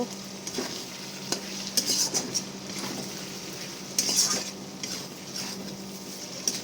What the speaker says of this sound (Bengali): সব মশলা একসাথে ভালো করে আমি মিশিয়ে নেব